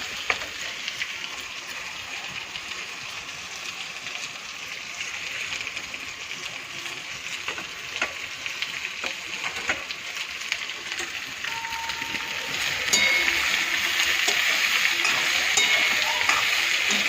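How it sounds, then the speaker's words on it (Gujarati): Small chopped onions sizzle steadily in a hot oiled pan, a dense crackling hiss that swells louder toward the end with faint stirring. "ડુંગળી સાતળાઈ જાય મસ્ત"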